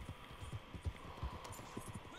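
Horse hooves clop in Red Dead Redemption 2 in a quick, rhythmic low thudding pattern under a faint hum, fairly quiet and steady throughout.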